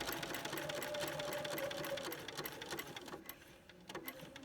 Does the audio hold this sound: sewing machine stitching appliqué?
yes